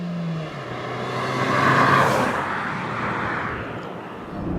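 A 2014 Mazda3 engine accelerating on the road, a steady loud drone that swells toward the middle and holds as the car pulls, recorded alone without talk.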